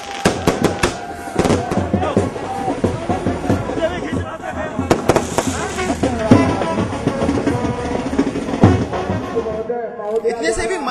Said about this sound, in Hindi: भव्य आतिशबाजी भी कराई गई है।